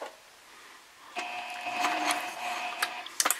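A sewing machine basting the fabric sections of a messenger bag at a 3.5 stitch length, running in a steady close whir after a quiet start, with a few sharp clicks near the end.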